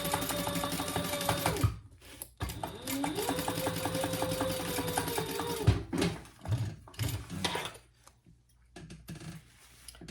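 A sewing machine stitches a bag seam in bursts, its motor whirring steadily for a few seconds, pausing, then running again, with clicks and handling noises between runs.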